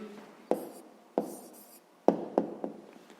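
A pen writes an answer to a sixth-grade math exercise by hand, heard as soft scratchy strokes with several sharper taps and short bursts. The writing is quiet and close, with no talk.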